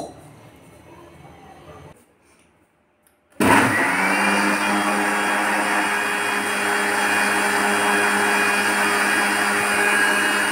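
A mixer grinder churns 15-day-old milk cream with water to make butter. After a quieter stretch and a short silence, the motor starts abruptly and keeps a loud, steady, close whirring drone to the end.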